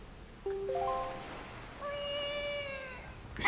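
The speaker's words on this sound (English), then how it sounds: "Yes, Link meows." Two meows from Link in The Legend of Zelda: The Wind Waker HD, a short rising chirp followed by a longer drawn-out meow, clear and alone over faint background ambience.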